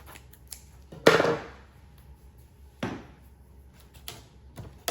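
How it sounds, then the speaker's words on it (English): Scissors slice through a sheet of cutaway embroidery stabilizer in a few distinct snips, one loud cut followed by a softer one and small clicks, close and clear with no talking. "I'm going to cut a piece of cutaway."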